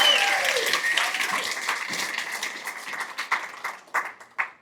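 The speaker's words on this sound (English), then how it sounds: "Can we give it a big round of applause to warm it up?" An audience at a Pechakucha presentation night in Bermuda applauds together, a dense wash of clapping that gradually thins into scattered individual claps and fades out.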